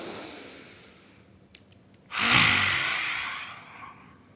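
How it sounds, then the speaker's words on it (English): A single deep, loud inhale during a yoga breathing exercise, a sharp rushing breath drawn in close to the microphone after a few seconds of quiet, then slowly fading. "Inhale, big breath in"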